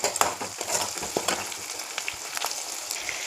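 Chopped onions fry with mustard seeds in a hot pan, giving a steady, dense crackle and sizzle with scattered sharp pops. The sound stays close and fairly loud throughout, with no voices.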